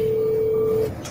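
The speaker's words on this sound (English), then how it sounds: "the original phone call between Kamala and Mr. Walz." A single steady telephone dialing tone, clean and fairly loud, holds for just under a second before cutting off, with faint line hiss after it and no voices.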